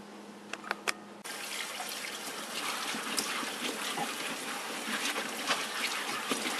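Water runs and splashes steadily over old leather saddle bags as they are scrubbed with dish soap, a continuous close hiss after a few faint drips and clicks at the start.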